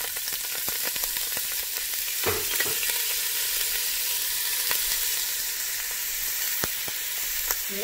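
Onion sizzling in hot oil in a pan, a steady close hiss and crackle running throughout with small pops and a few scraping stirs.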